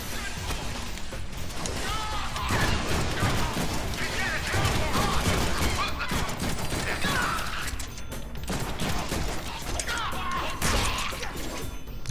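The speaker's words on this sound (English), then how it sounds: "who else is shooting at me?" Rapid gunfire rattles through a battle in the Deadpool video game, dense volleys mixed with crashing impacts and mechanical clatter, loud and continuous throughout.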